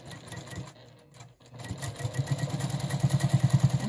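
Sewing machine stitching quilt blocks, heard close with a rapid mechanical chatter that starts after a short pause and builds into a steady, loud rhythmic run.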